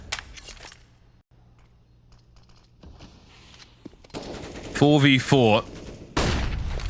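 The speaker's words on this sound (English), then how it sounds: "Desperation for niko as they are getting riddled with bullets" Automatic gunfire during a 4v4 round of Counter-Strike on the Mirage map, rapid bursts loud near the end under excited commentary.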